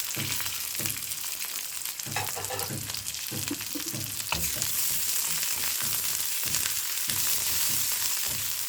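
Onions and garlic fry in hot oil with a steady loud sizzle, occasional stirring scrapes and clinks over the hiss, close up and without speech.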